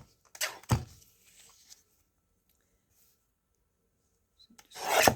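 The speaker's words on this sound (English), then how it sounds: "I'm going to trim off this edge" Paper being trimmed along its edge for a junk journal: a couple of short rasping cuts near the start, a stretch of quiet, then a louder scraping stroke at the end, close and dry.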